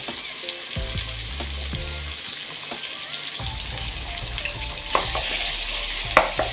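Tomatoes, chili and ginger fry in a pan with a steady sizzle, punctuated by stirring scrapes and a few louder clacks near the end.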